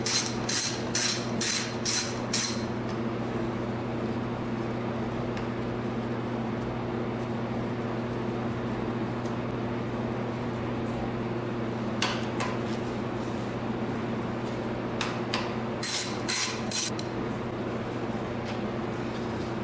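Ratchet removing the spark plug from a small racing mini two-stroke dirt bike: bursts of quick clicking at the start and again near the end, close up, over a steady background hum, no talking.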